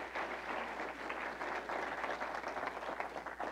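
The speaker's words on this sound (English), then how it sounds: "Can we give one more round of applause for all of our scripture readers?" An Easter church congregation applauding its scripture readers, a steady wash of many hands clapping at once, sustained and fairly loud for a few seconds with no talking on top.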